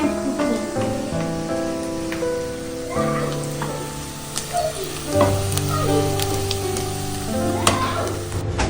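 Eggs frying in a pan make a steady, close crackling sizzle with spattering pops, and music plays underneath throughout.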